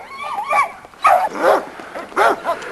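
A dog at a kennel yard gives several short, yelping barks with whiny tones, about four bursts spaced irregularly over a couple of seconds, close and fairly loud.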